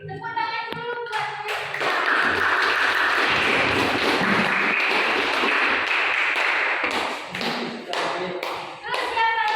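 Primary school class clapping hands, a sustained burst of many small hands clapping loudly for about five seconds, bracketed by children's voices before and after.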